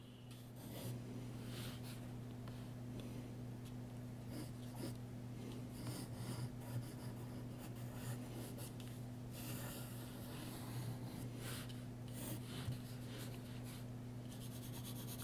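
Pencil quickly sketching outlines on paper, a soft continuous scratching and rubbing with short strokes, close but faint, over a steady low electrical hum.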